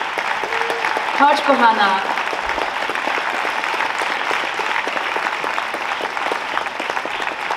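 An audience at a poetry song festival in Olsztyn applauds steadily, with dense, even clapping that goes on throughout while someone speaks briefly over it.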